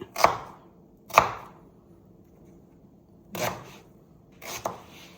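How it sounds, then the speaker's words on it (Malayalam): Onion being cut into large pieces, four separate close chopping strokes against a board with quiet gaps between them. "ഇതിന് മറ്റേ പോലെ അല്ല കട്ട് ചെയ്യേണ്ടത്, കുറച്ച് വലിയ പീസായിട്ടാണ് കട്ട് ചെയ്യേണ്ടത്."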